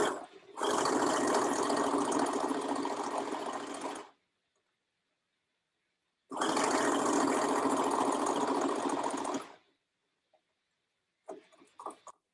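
A sewing machine stitches a half-inch seam on the bottom tier of a child's dress skirt at a basic 2.5 stitch length, in two steady, loud runs of about three to four seconds each, separated by a pause, then a few faint clicks.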